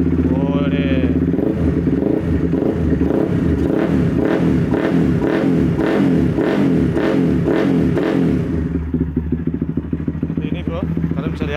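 A Honda CBR motorcycle fitted with a carbon Spartan R Custom exhaust starts up and idles loud and close, its throbbing beat rising in a few revs before settling back to a steadier, quieter idle.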